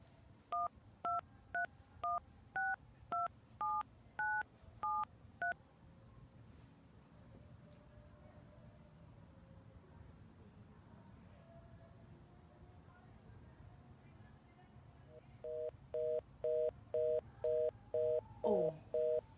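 Touch-tone dialing on a telephone in a Haitian film sounds as a quick run of about ten clear paired beeps, then a quiet stretch, then a steady series of regular busy-signal pulses. Faint voices sit underneath.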